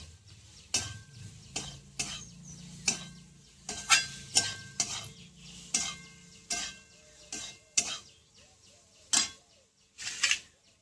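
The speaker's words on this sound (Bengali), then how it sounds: "সয়াবিনটা একটু ভালো করে ভেজে নেবো মশলার সঙ্গে" Soybean chunks frying with spices in a pan under a low sizzle, broken by repeated sharp scrapes and clacks of a spatula against the pan at an uneven rhythm, close and clear.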